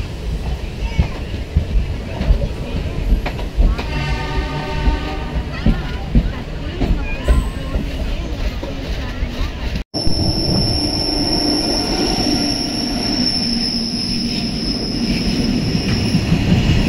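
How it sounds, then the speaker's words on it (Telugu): A train pulls out of Dhone station on the Gooty–Kurnool line, its wheels squealing and its cars rumbling loudly and close, with a rhythmic clatter throughout and a brief sharp break near the end. "ట్రైన్ డోన్ నుంచి డిపార్చ్ అవుతుంది"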